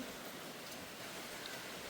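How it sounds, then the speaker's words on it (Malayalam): Heavy rain falling steadily, a constant dense hiss of water that fills the whole clip evenly with no breaks or other sounds. "നല്ല മഴയുണ്ട്"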